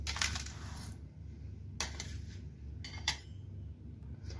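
Rice poured into pigeon-pea lentils in a bowl, a close rattling patter of grains in a few bursts over low background noise, no speech.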